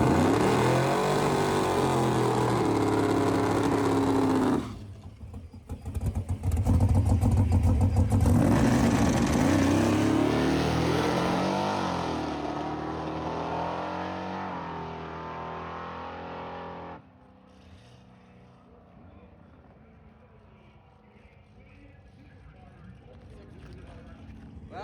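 A race car with a welded cam lobe makes a loud pass down the track, its engine roaring harshly and unevenly with a plopping, misfiring note before fading into the distance, with voices talking over it.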